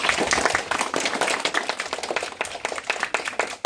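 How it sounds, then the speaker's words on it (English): Elementary school students clap in an uneven burst of applause, with many sharp claps close together that taper off unevenly over a few seconds. "Give yourself a round of applause."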